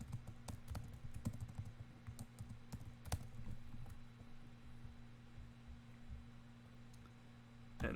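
Quiet, steady typing on a computer keyboard during a Rust coding session, with rapid irregular key clicks that thin out into sparser taps against a low background hum.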